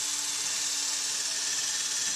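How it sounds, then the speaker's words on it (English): A steady high-pitched whine of a power drill running continuously, grinding through a foam and fiberglass deck board at close range with no pauses. "I'm going to go ahead and drill all the way through the fiberglass"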